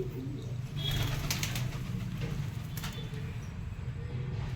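Soft pigeon coos with a brief flutter of wings nearby, set against a low steady background hum.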